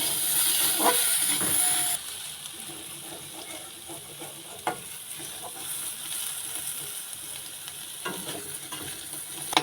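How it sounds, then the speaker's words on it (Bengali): Potatoes fry in a pan with salt and turmeric powder, giving a continuous soft sizzle and hiss broken by occasional scraping stirs. The sound is moderate and close with no talking. "আর অল্প করে হলুদ গুঁড়ো দিয়ে ভালো করে আলুটা ভেজে নেব।"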